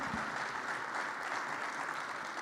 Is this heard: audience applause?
yes